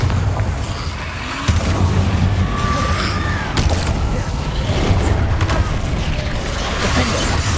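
A Bombarda spell blast in Hogwarts Legacy combat: a heavy, booming burst with rumbling debris, set amid a continuous din of spell effects and fighting noise.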